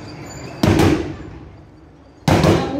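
Two heavy booming shots from a 100mm gun firing rounds at a target during a military weapons display, each a sharp loud blast with a long rolling decay, spaced about one and a half seconds apart.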